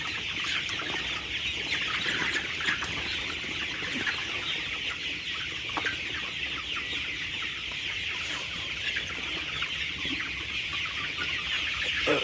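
Thirty-day-old colour-bat broiler chickens in a farm shed cluck and murmur constantly, a dense, even crowd of bird calls with occasional sharper clucks and wing flaps.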